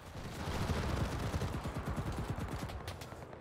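Rapid automatic gunfire in the game Enlisted, a fast rattling burst of repeated shots firing at the player, moderately loud and steady for a few seconds with no talking.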